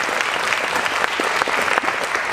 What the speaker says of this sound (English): Absolutely, round of applause.